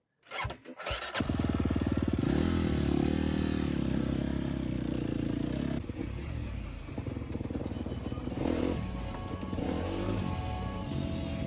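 A dirt bike starts up with a few sputtering coughs, then its engine roars loud and close, revving and droning steadily as it heads toward the trails.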